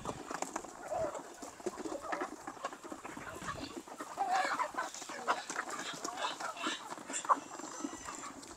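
Native chickens clucking and calling on a farm, a steady busy chorus of birds at close to middle distance with scattered louder calls throughout.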